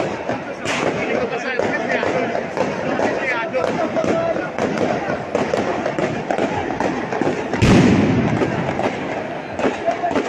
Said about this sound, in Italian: spettacolo, fuochi d'artificio, tanti colori, verde, oro, rosso